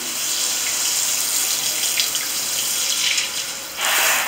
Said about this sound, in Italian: Guardate l'acqua come scorre, ragazzi